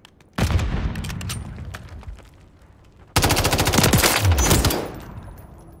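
Two loud bursts of rapid machine gun fire from the video game Call of Duty Warfare, the first rattling for about two and a half seconds, the second denser and more intense before cutting off.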